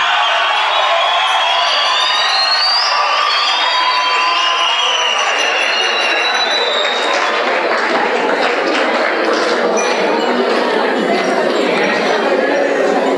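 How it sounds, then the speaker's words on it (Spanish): A room of people applauds and cheers a mathematics teacher being honoured at an agricultural school, dense clapping and chatter with excited voices rising over a steady, loud wash that continues throughout. "y un aplauso, por favor."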